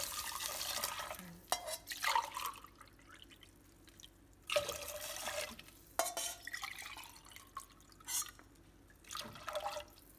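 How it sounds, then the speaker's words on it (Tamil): Water is poured from a tumbler into a pot for Tamil dal rice in a home kitchen, in several soft splashing, trickling pours separated by quiet gaps, fairly close but faint. "மூன்றரை டம்ளர் ஊற்றிருக்கேன்"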